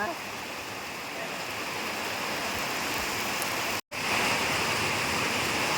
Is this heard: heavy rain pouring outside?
yes